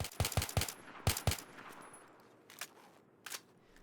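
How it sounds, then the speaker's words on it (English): A weapon tap-fired in Battlefield 3, one shot at a time as fast as possible: a quick string of sharp, loud gunshots, then a pause and a couple more isolated shots. "The other one is tap firing the weapon, giving only 1 shot at a time, but as fast as possible."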